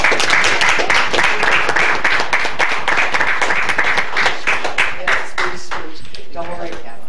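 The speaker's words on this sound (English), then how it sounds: "Let's give them a round of applause." At a city commission meeting, a crowd claps steadily in a loud, dense round of applause that tapers off near the end with a few scattered claps.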